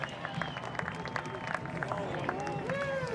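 A large outdoor crowd cheers and whoops as darkness falls during the April 2024 total solar eclipse, with a continuous wash of distant voices, scattered claps and shouts, and no single voice standing out.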